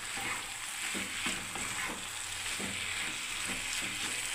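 Ghee spooned into a soybean and bean vegetable dish frying in a pan, giving a steady close sizzle with occasional stirring scrapes throughout, no talking.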